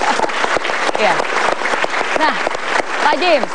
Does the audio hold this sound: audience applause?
yes